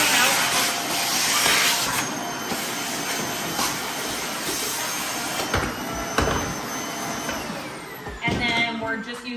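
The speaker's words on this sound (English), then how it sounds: "So first things first, you're gonna vacuum out." A vacuum cleaner whirs steadily up close, its hissing drone shifting as the nozzle scrapes and bumps inside a kitchen cupboard.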